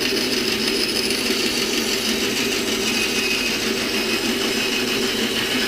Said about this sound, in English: Bandsaw to cut the radius.